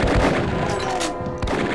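Chaingunner enemies in Doom fire in rapid bursts, a loud, dense stream of gunshots with a sharp crack near the end.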